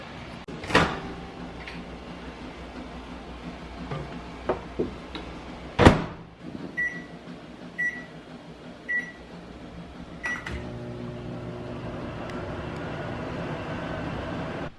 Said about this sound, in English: And then I'm gonna microwave this for 20 seconds.